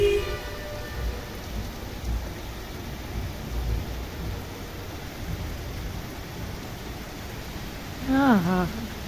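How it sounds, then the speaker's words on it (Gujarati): Heavy rain pours down in a steady, dense hiss that holds throughout, with a short voice sounding briefly near the end. "ફૂલ વરસાદ હો."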